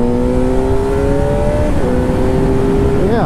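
A Suzuki GSX-R 750 K1 sport motorcycle engine revving steadily and loud at close range, its whining tone holding then shifting pitch as the throttle changes, with no voices.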